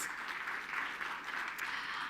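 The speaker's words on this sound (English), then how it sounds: "And give yourselves a round of applause, our delegates and friends." Steady applause from an assembled audience of delegates at the opening of an airports association general assembly in Africa, a dense continuous clapping wash heard from within a large hall.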